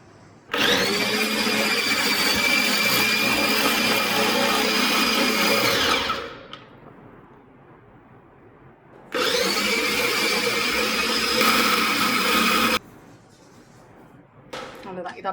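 An electric juicer with a 1.7-litre jar, pulse setting and two speeds juices oranges in two loud, steady motor bursts, the first about six seconds and the second about four, separated by a quieter pause.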